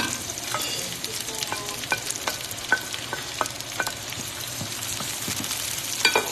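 Garlic and onion frying in a pan, a steady close sizzle broken by light scrapes and stirring clicks throughout, no voices.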